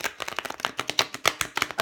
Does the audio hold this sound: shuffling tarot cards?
yes